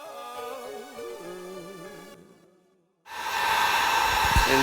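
A heat gun blows on the plastics of a Suzuki DRZ400E dirt bike. It cuts out, goes quiet for about a second, then returns as a loud, steady blowing roar.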